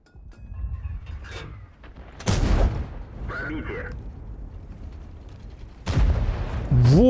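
Heavy booming tank cannon shots in the World of Tanks game, two loud blasts a few seconds apart with rumbling battle noise between them and a voice talking over it.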